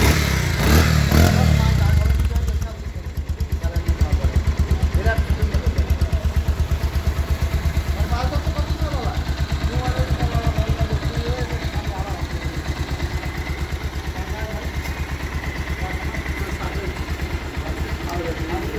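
A Bajaj Pulsar 150 motorcycle engine in fresh condition idles steadily and loudly up close with a continuous even rumble, after a brief louder start, with someone talking over it.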